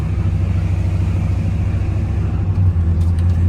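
An old-school car drives along with a steady, loud low engine rumble and road noise throughout, heard from inside the cabin with no talking.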